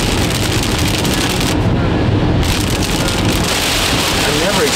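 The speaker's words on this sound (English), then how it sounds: "Heavy rain or something, it's coming here." Heavy rain pours steadily in Dubai during flooding, a loud continuous wash with gusts of wind noise across the microphone.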